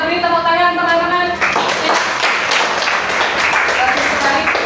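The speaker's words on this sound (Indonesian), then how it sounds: "beri tepuk tangan teman-teman" Classroom applause for student group 2 after a light lesson, a voice speaking briefly first, then a burst of children clapping together, loud and close, sustained for several seconds.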